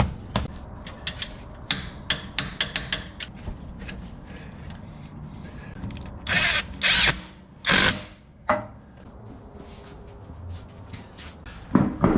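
A power tool runs in short bursts on sway bar bolts of a 2020 Toyota 4Runner, rapid clicking pulses followed by longer whirring spins and metallic clanks, close and loud with no talk.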